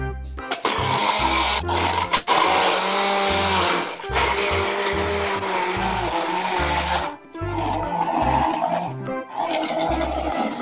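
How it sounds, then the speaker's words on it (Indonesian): A kitchen blender runs loud and close during a home cooking class, whirring steadily for about ten seconds with a few brief dips in pitch and power as it churns. "Bentar ya Pak, di blender dulu."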